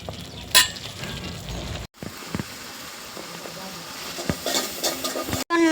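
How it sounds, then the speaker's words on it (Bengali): A Bangladeshi home cook sautés a spice masala of turmeric, chili, coriander and cumin powders with salt in a pan for prawns, with close, rough scraping and sizzling strokes, broken by two brief silent gaps. "এখন মশলাটা ভালো করে কষিয়ে নিবে।"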